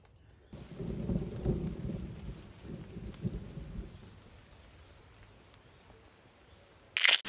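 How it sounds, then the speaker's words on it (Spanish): A thunderstorm with rain on a mountainside in June: a deep rolling rumble of thunder swells and fades over steady rain, ending with a sharp close click. "volvió a caer otra tormenta y no lo dejó ya"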